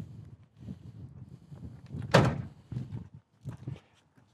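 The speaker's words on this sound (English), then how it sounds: "You can go ahead and shut the door, Brady." The door of a 1980 Camaro Z28 swings shut with a single solid thunk near the middle, set among quieter shuffling and movement sounds nearby.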